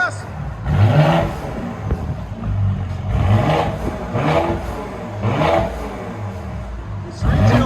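A 2019 Mercedes GLE 43 AMG with a 3.0L bi-turbo V6 and straight-piped dual exhaust, revving in four loud, close bursts that rise and fall, with raspy crackle between pulls.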